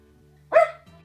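A single dog bark, close and fairly loud, one short sharp yelp standing out briefly against a low steady background hum.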